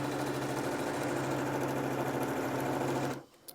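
A sewing machine stitching the sides of a fabric mask, a steady, close mechanical whir with a fast running hum that stops abruptly near the end.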